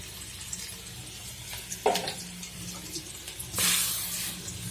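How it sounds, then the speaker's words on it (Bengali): Water is poured onto spices in a home kitchen where fish has just been fried and onions added: a soft splashing pour with a brighter, louder rush near the end, over a low steady background hum. "মশলাগুলোতে একটু পানি দিয়ে দিচ্ছি"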